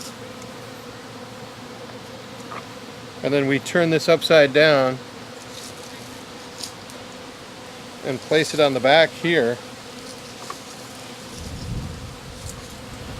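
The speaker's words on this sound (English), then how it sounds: "the bees can get in and eat the solution" Bursts of honeybee buzzing around a vented top bar hive rise and fade twice, close and fairly loud, between stretches of quiet background and someone talking.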